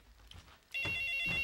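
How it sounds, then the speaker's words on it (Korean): Inside a home in a sitcom scene, a telephone suddenly starts ringing with a loud electronic ring, after a few faint footsteps and quiet background noise. "전화 왔습니다"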